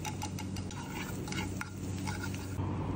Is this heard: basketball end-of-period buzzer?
no